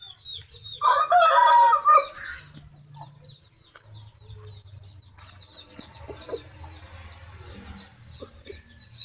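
A Shamo rooster lets out one loud, close crow, followed by softer clucks and scattered chirps from other fowl in the background.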